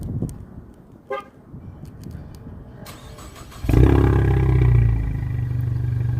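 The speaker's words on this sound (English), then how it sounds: "the exhaust actually sounds great on the car" A 2015 Ford Mustang EcoBoost with dual exhaust starts up with a loud, close crank that catches into a deep exhaust rumble, then settles to a steady idle. Quiet ambient sound comes first, with a brief chirp just before the start.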